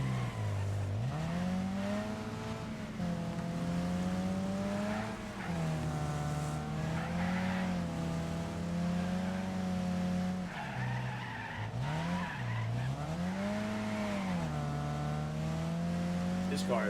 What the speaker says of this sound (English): This car is making me super nervous right now.